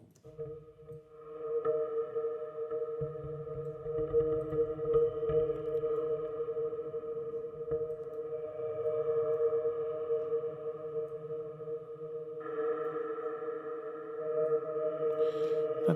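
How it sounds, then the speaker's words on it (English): Synth pad atmosphere built from an audio sample, drenched in a big reverb: sustained layered tones hold steadily for the whole stretch with a brighter shift near the end, alone with no talk. "And now we'll add a big reverb to it."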